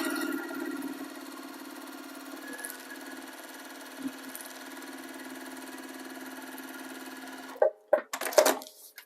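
A sewing machine stitches a seam out to a dotted line on a foundation paper-pieced zipper pouch, running steadily and moderately loud for most of the time before stopping, followed by a few short handling clicks.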